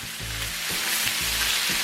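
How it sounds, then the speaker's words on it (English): Loud, constant crackling sizzle of bacon frying in a pan, close up, with a faint low hum beneath it and no talking. "I hope you can hear me above the sizzle of the bacon"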